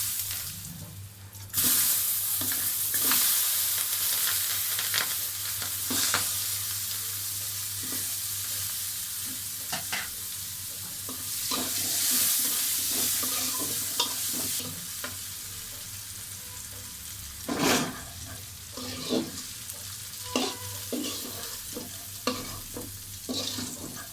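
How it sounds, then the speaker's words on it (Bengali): Dried chilies, green chilies, garlic and onion fry steadily in an oily pan for eggplant mash, a continuous close sizzle broken by stirring scrapes and clatters. "শুকনা মরিচ, কাঁচা মরিচ, রসুন আর পেঁয়াজ ভেজে নিই"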